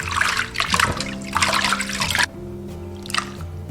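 Pig small intestines are rinsed under running water, with a loud close trickle and splashing that pours in bursts, then drops to a quieter flow beneath a steady background hum.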